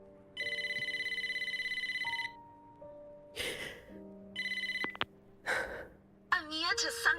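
A phone rings in a video game with repeated electronic trilling bursts, loud and near, broken by breathy gasps and other short game sounds between the rings.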